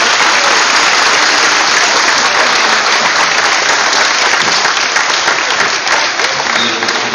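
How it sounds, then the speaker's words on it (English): Steady, loud round of applause from an audience at a college signing event for student athletes, sustained evenly throughout with no break. "Everybody, please give them a round of applause."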